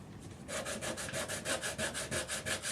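Hand sanding body filler with 180 grit sandpaper, a close rhythmic rasping scrub of about a dozen quick back-and-forth strokes after a brief quiet start.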